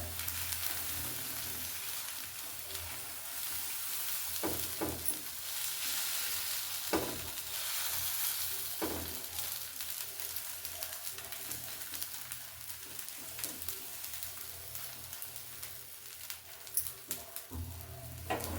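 Onion and carrot dosa batter sizzles on a hot pan, a loud, continuous close-up frying hiss with occasional soft scrapes and pops and no voices.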